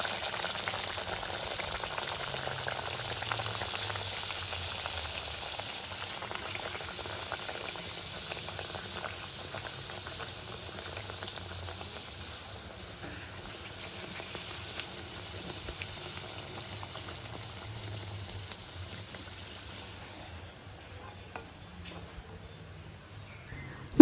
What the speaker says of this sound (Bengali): আর তারপর গরম তেলে বেশ সময় নিয়ে ভাজতে হবে।